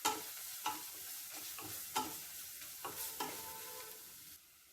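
Rice being stirred into a spiced mixture in a pan with pepper powder, for a coconut milk pulao: a gentle sizzle runs under repeated scraping strokes of the spoon, several sharp clacks spaced about a second apart, close and moderately quiet.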